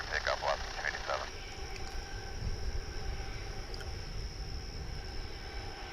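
An Alaska Airlines jet takes off at Dallas Fort Worth airport, heard as a constant broad roar and low rumble from a distance. A crackly radio voice talks briefly at the start.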